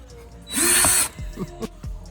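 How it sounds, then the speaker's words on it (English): A power drill whirs loudly for about half a second while drilling holes for rock lights on a Dodge Ram truck, then stops, followed by a few scattered clunks and taps. "I had to switch to a bigger drill here"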